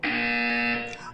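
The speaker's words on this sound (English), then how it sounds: "When you hear the buzzer, look down at the floor." A steady electronic buzzer tone from the video game Portal 2, held loud and unbroken for about a second before it trails off, with no talking over it.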